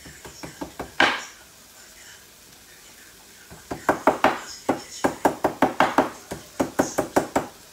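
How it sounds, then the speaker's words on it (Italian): Ginger gets smashed for a lamb curry with a series of sharp knocking thuds, a quick burst of strikes, a louder single blow, a pause, then a steady run of evenly spaced loud knocks. "we have some ginger, we smash it"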